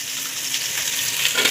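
Onion and curry leaves fry in hot oil along with chana dal, mustard seeds, garlic and ginger. The sizzle is steady, loud and bright, close by, with faint stirring and no talking.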